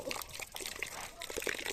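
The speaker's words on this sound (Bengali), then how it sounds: "এখন আমরা এগুলোকে ভালো করে ধুয়ে নেব।" Raw beef being washed in water for a mung dal beef recipe, with light splashing and trickling throughout, fairly faint, and a voice talking in the background.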